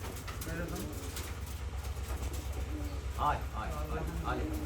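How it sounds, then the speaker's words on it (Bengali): Soft pigeon cooing in repeated low, rolling calls over a steady background hum, fairly close. "এই কবুতরটা এখানে মনে হচ্ছে ডাকা ডাকি শুরু করছে"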